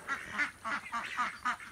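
Ducks quack repeatedly in a quick, rhythmic series of about six nasal calls, close by and moderately loud, on a hot day near their pen.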